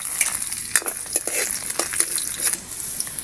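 Egg frying in a pan, giving a bright, constant hiss of hot oil, with several quick scraping stirs and crackles on top.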